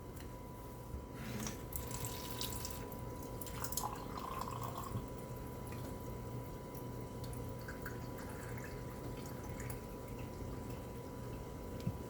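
Tap water runs into a 6-ounce tomato paste can in a kitchen, a faint steady trickle and splash that carries on for several seconds in a quiet room, with no one speaking.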